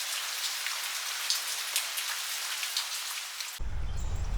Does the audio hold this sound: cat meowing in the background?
no